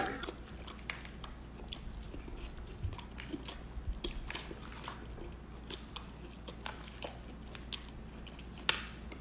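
Someone eats honey hot and honey barbecue chicken wings up close, with soft wet chewing and biting sounds repeating irregularly at low volume, plus faint murmuring in the background.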